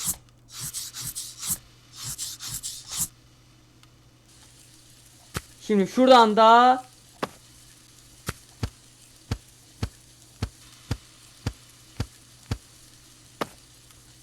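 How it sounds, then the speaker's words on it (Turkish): A knife chops döner meat in the Wrap House Simulator game, giving a run of sharp, evenly spaced cuts in the second half after an earlier scraping burst, while someone speaks briefly. "Evet şimdi hemen abi dönerlerimizi doğrayalım."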